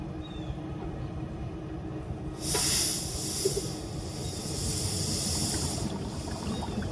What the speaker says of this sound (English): Let's see what happens when we put the bubbler to it.